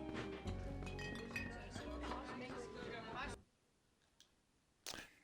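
Video game tavern ambience: a busy murmur of chatter and laughter with glasses clinking, which cuts out abruptly to near silence before a single brief clink near the end.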